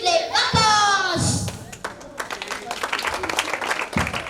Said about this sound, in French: Applaudissez encore s'il vous plaît